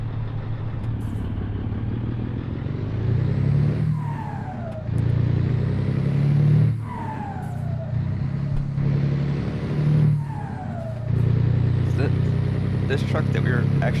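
Modded truck in a PC truck simulator game, its engine droning loud and steady, rising and falling through gear changes in repeated swells while someone talks over it.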